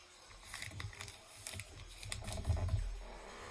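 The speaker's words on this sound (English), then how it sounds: "So, you would just take your bag. This is the bottom. And you would fold it in half." A paper bag is folded in half by hand, a series of close, soft crinkles and papery taps and rustles in irregular bursts, quiet and up close with no talking.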